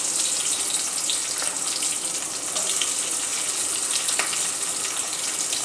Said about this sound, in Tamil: சேர்த்து வெங்காயத்தை நல்லா வதக்கிக்கலாம்.